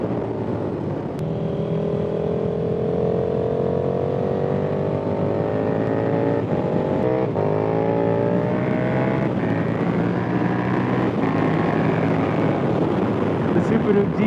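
KTM 1290 Super Duke GT sport-touring motorcycle on Metzeler Roadtec 01 SE tires accelerating hard, its engine note rising through the revs in a long continuous pull with a brief shift dip, heard close and loud with wind rush.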